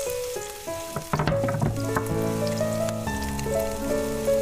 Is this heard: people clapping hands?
no